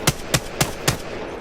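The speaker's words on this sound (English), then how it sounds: "switch whatever gun you're using to single fire and just practice like shooting your targets" Four evenly spaced single gunshots fired at practice targets in Apex Legends, sharp close cracks in a quick steady rhythm followed by a brief quiet tail.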